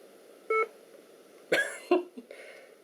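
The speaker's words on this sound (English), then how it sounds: "I was expecting a ta-na-na-na, but nope, beep." A Clevo 5620p laptop gives a short single startup beep at power-on, a clear electronic tone, followed by a few soft clicks and a cough-like noise in a quiet room.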